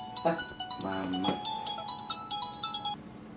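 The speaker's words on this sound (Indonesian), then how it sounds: "Ada telepon." A mobile phone ringtone plays a short melodic electronic tune of repeated beeping notes, fairly faint and indoors, stopping after about three seconds.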